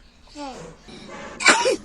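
A small child coughs once, sharply and close by, near the end, after a moment of soft childish vocalising.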